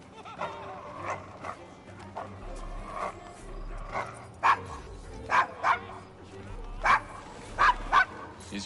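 A dog named Desmond barks in a rough street setting, several sharp barks in quick succession, loud and close, with distant voices and street noise under them.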